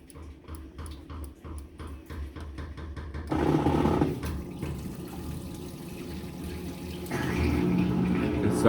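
Hot water rushes steadily into a Whirlpool commercial washer during manual test mode, loud and continuous after a few seconds of clicking mechanical ticks, then growing slightly stronger toward the end.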